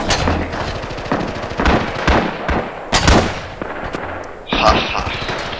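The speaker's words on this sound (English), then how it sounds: "Throw down some of these knee mortars and hopefully suppress these guys back" Japanese knee mortars in Rising Storm firing as a run of sharp, loud blasts and cracks amid dense in-game gunfire, with several hard reports spaced irregularly over a constant noisy battlefield bed.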